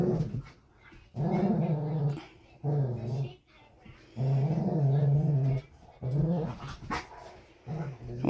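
Two dogs play-growling at each other, a big one and a younger female, in repeated rough, rumbling bursts with short snarls and whimpers between, close by and loud, with no talk over them.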